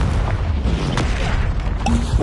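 A Confringo blasting spell goes off in a Harry Potter wizarding video game, a dense low boom rumbling steadily under game noise throughout.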